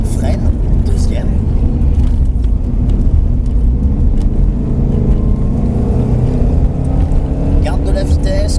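Car driven hard on a circuit during a driving course, heard from inside as a loud, continuous engine drone and road roar with a few shifts in pitch, while people talk over it.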